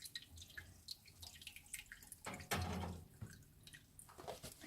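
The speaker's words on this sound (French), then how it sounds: "Comme ça, je vais mettre l'eau bouillante." Boiling water is poured into a cake mould set in a second mould for a bain-marie, giving a soft, close trickle of splashes and drips that swells into a brief steady pour.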